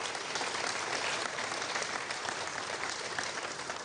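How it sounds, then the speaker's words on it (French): An audience at a rocket launch event applauds an award winner with steady, even clapping from many hands, moderately loud and continuous throughout. "Et donc je vous demande de l'applaudir"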